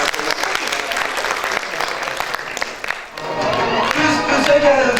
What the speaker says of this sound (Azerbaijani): Bir alqışla